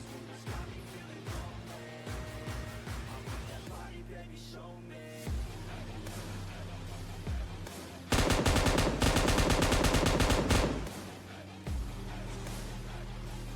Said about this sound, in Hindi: तो मैंने कुछ रैंडम फायर दिए स्मोक के अंदर